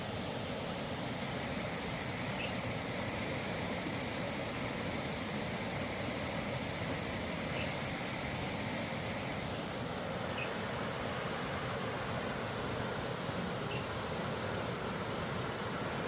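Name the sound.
river water flowing through bamboo forest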